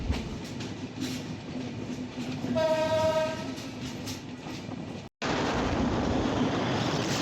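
The Chilahati Express, an intercity train, rumbles along steadily with a low rolling roar, a clear horn blast sounding midway, then a brief dropout before the running noise resumes.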